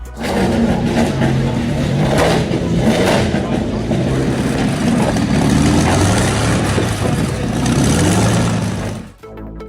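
A car powered by a tank engine roars loudly and steadily at close range, a deep, heavy rumble that holds for several seconds before briefly dropping off.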